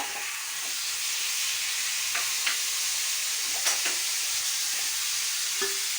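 Cooked vegetables being reheated in a pan, giving a steady hissing sizzle throughout with a few faint clinks of stirring, close and even, with no talking.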